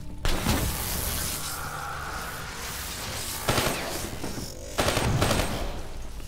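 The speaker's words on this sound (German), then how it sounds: "Das waren noch zwei Explosionen." Two muffled booms in Call of Duty: Black Ops III burst over a continuous rumbling din of gunfire and engine noise, the second blast louder than the first.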